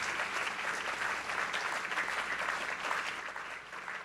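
Steady applause from an audience at a book fair event in 2023, a dense, even wash of clapping that holds at a constant level for the full length with no voices over it.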